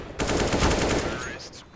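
Rapid automatic gunfire in Counter-Strike: Global Offensive during a varsity league match, a loud dense burst of repeated shots lasting over a second, with a short trailing shot after.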